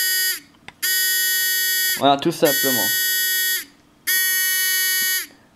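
A piezo buzzer wired in parallel on a multivibrator circuit gives three loud, steady electronic tones, each lasting over a second, with a brief spoken interruption between the first and second tones.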